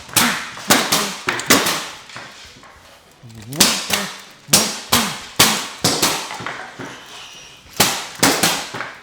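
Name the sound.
punches striking a wooden pell training post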